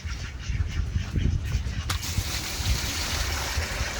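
Ducks on a farm waiting for their morning feed, a dense chatter of low quacks close by, continuous over steady outdoor noise with a brief sharp knock midway.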